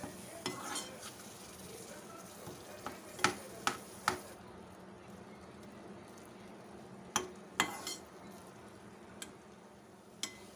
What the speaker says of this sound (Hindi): अब इनको हमने दही के साथ भूनना है मिर्चों को।